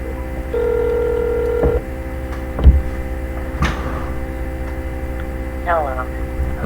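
A phone call is placed: a steady dial-type tone holds for about a second, followed by clicks and a short warbling ring near the end, all over a low electrical hum.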